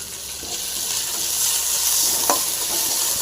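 Carrots and peas frying with curry leaves and coriander are stirred in a pan, giving a steady close sizzle with soft scraping strokes throughout, no talking.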